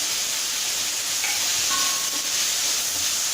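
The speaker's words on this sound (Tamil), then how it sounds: "இப்போ தக்காளி ஓரளவுக்கு வதங்கிடுச்சு" Chopped tomatoes with a pinch of salt sauté in a pan, giving a steady, even sizzle and hiss that continues unbroken at moderate loudness.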